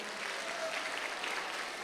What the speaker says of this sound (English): A round of applause for this young girl.